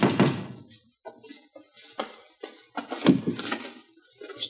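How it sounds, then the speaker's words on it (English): Knocking on a door during a live studio television drama: several irregular raps and dull thuds at moderate loudness, scattered across a few seconds. "How many times do I have to knock?"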